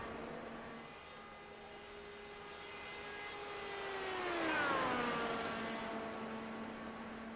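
An open-wheel race car engine at a 500 qualifying bump day drones steadily in the distance, then rises in pitch and loudness as the car passes close with a clear Doppler drop, and fades away again.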